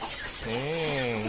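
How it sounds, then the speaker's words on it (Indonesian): A single hen gives a drawn-out, rising-then-falling cluck close up while feeding on black soldier fly maggots, a brief call standing out over quiet farmyard background. "Kita lihat ayam-ayam kita pasti akan lahap makannya."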